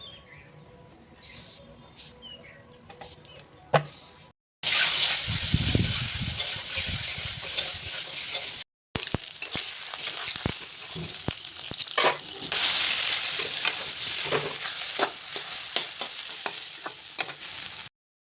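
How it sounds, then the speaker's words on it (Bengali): Boiled eggs frying in a pan with spices for a Bengali meal, a quieter stretch with faint chirps giving way to loud, steady sizzling broken by brief cuts, with spatula scrapes and taps scattered across, no talking. "ডিমগুলো ভেজে নিব এখন।"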